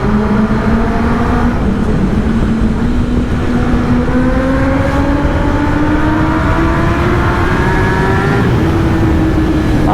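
Two motorbikes ride side by side through a tunnel, engines droning loud and close with rising pitch as they accelerate, the sound echoing continuously with no break.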